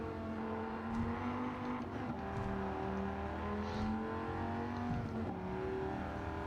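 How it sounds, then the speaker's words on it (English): A Viper GTS race car in Gran Turismo 7 runs flat out along the Tokyo Expressway. The engine drones loud and close at high revs, its pitch stepping through gear changes, with no voices. "200-mile-an-hour capable car as demonstrated on the streets of Tokyo"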